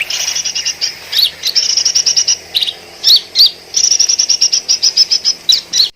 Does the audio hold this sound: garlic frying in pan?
no